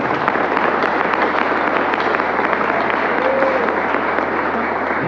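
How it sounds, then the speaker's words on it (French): Congregation applause at a church service with a pastor, steady dense clapping from a crowd that fills the whole stretch at an even, loud level with no talk on top. "On applaudit les Seigneurs"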